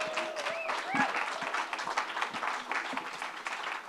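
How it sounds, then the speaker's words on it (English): Audience applause for conference panelists closing a Texas policy summit panel on education, a dense sustained clapping that carries steadily throughout, with some crowd noise mixed in. "Please give another round of applause to all our panelists."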